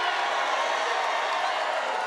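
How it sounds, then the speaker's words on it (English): A large crowd at a Trump rally in North Carolina roars and cheers continuously, a dense, even wash of voices sustained at full volume through the whole short stretch. "And what a crowd"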